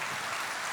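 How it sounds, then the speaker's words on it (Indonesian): A brief burst of audience applause in a church service, dense, even clapping filling a short moment with no voices over it. "berikan tepuk tangan buat Tuhan kita"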